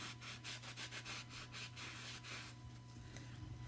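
Wax is rubbed by hand onto a smooth, flat wooden surface during a chalk-paint craft project, making steady, fairly faint back-and-forth scrubbing strokes in a quick rhythm, with no voices.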